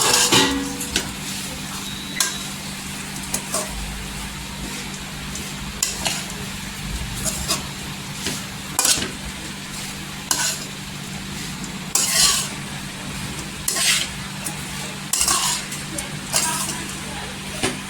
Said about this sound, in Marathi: इथे छान असं खोबरं करून घ्यायचं परतून घ्यायचं घीमध्ये